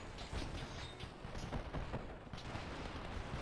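Sadie sniping at defenses in Plunder Pirates, amid a constant rumble of cannon and gun fire with repeated thuds and pops throughout, no voices.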